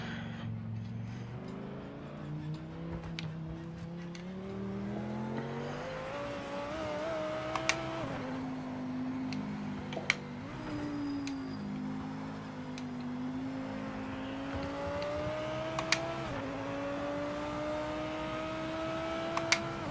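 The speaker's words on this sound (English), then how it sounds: "I love the sound of this thing for a GT4 car." A GT4 race car engine in the racing game Project Motor Racing revs and climbs through gears, its tone rising and dropping at each shift, steady and moderately loud with brief clicks.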